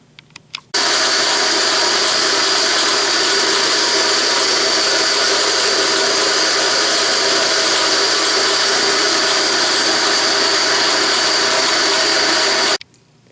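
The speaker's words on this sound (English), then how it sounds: "that pull gear is loud, isn't it?" Loud pull gear driving a turning blade at about 160 RPM: after a few clicks it starts abruptly into a steady, dense mechanical whine and grind, close and constant for about twelve seconds, then stops.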